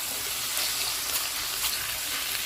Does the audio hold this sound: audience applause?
no